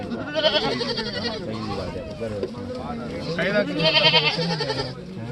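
Goats bleat repeatedly close by, their wavering calls overlapping with people talking throughout.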